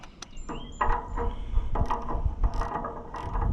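A socket wrench clicks and ratchets in short bursts while working on a neglected Allis Chalmers Model C tractor, its rapid pawl clicks close and fairly quiet.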